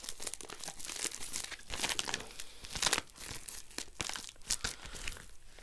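Parcel packaging is torn open and crinkled by hand, with rustling, crackling plastic and sharp tearing bursts filling the whole stretch up close, no voices.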